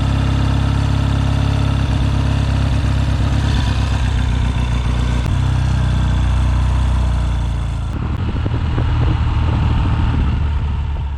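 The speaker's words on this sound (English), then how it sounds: "it takes a while to warm up, so we'll just keep it idling for a bit" An engine idles steadily while warming up, a loud, continuous low rumble close by that shifts slightly in pitch partway through, with no talk.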